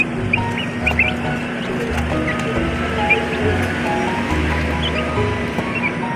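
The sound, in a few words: Rhode Island Red chickens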